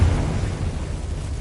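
A low, rumbling blast from the Confringo spell in the video game Hogwarts Legacy, a heavy boom that rolls on steadily and fades slightly.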